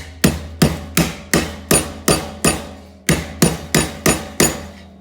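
A hand hammer taps sheet metal down over a vise edge in about a dozen sharp, evenly spaced ringing strikes, with one brief pause midway. Close and loud, no voices.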